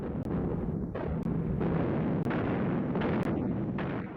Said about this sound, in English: After a massive artillery barrage, the T-34s and assault infantry burst through the German positions